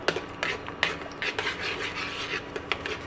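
A spoon stirs semolina (rava) into leftover dosa batter in a cooking pan, making close, irregular scraping and soft clinking strokes against the pan with no speech.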